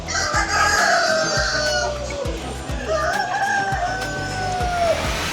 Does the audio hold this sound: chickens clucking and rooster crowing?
yes